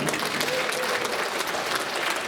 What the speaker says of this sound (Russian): Давайте похлопаем друг другу.